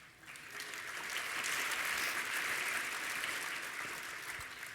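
Audience applause at an awards ceremony, a dense, sustained round of clapping that rises quickly, holds strong, and eases slightly at the close, with no talking over it.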